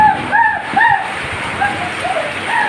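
Heavy rain and strong rushing water make a loud, constant wash, with short whistle-like tones breaking through over the roar.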